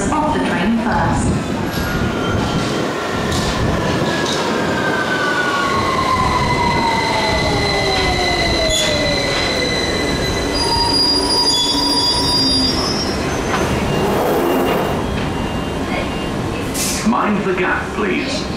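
A London Underground 2009 Stock train rolls into Victoria station and brakes, with long high-pitched wheel squeals over a steady roar that lasts throughout and ends in clicks as it slows.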